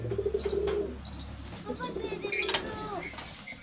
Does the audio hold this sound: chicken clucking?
no